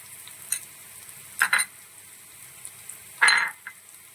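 Bread fry mixture seasoned with salt and turmeric being stirred in a pan, with a few separate scraping, sizzling bursts of the spoon against the pan over a quiet background.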